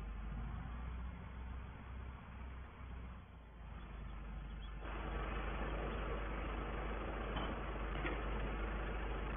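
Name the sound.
farm tractor engine running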